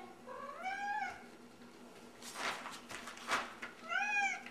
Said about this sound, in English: Yeah, Kitty's helping too